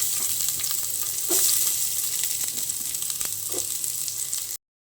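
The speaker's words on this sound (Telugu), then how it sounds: "ఇప్పుడు మనం ఇందులోకి కట్ చేసుకున్న ఆనియన్స్ వేసుకుందాం" Chopped onions hiss and crackle steadily in four spoons of hot oil, a loud continuous frying sizzle with a few light stirring clinks, ending abruptly.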